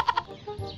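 A couple of short, sharp clucks from a chicken close by, followed by low background rumble.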